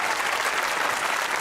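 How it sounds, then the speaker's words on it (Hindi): Studio audience on a Pakistani comedy talk show claps in a short, even burst of moderate loudness, with no voices over it. "तालियां तो बजाया करें जब मैं इंट्रोडक्शन कर रहा हूं"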